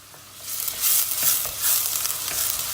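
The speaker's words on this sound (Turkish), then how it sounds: "Tam bu aşamada soğanını atacağız." Steady sizzling and crackling of onion frying in a hot pan, with a few soft stirring scrapes, close and continuous.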